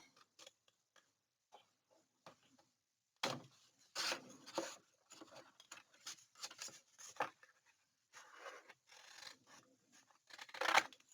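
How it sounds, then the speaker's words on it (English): Scissors snip paper at an angle to make corner tabs for a Halloween decorative cube, a series of quiet, close, irregular cuts and rustles separated by brief silences. "So I like to just go in and cut at an angle."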